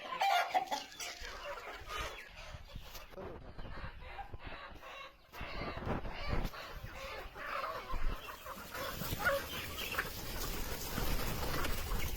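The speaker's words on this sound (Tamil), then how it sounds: "நாட்டுக்கோழிகள்ல 2 வகை இருக்கு." Native country chickens on a dry-land farm near Nazareth, clucking and calling at a moderate distance, with a rooster crowing among the scattered bird sounds.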